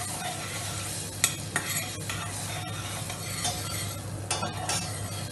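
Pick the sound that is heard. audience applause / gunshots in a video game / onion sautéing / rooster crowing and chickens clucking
onion sautéing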